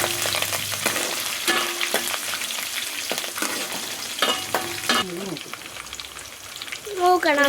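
Curry leaves frying and being mixed in a hot pan for Kerala egg thoran, a dense crackling sizzle with repeated scraping strokes of a spoon, close and without speech.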